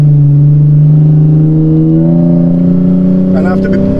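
A Toyota Mark X engine revs with a smooth, deep, rising drone whose pitch climbs steadily, loud and close, with a brief higher rasp near the end.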